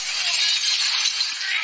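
Glass bursts and shatters in a fight scene from John Wick: Chapter 3 - Parabellum, a bright, crackling wash of shards that fills the whole moment without voices.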